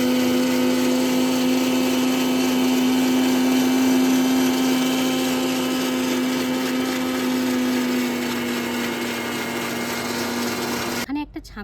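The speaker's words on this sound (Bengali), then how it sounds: "মিক্স জারের মধ্যে দিয়ে দেব। এবারে যেটা করতে হবে ভালো করে ব্লেন্ড করে নিয়ে আসবো" A mixer grinder blends mint leaves in its jar with a steady, loud motor whine that runs almost continuously, then stops abruptly near the end, leaving brief clattering.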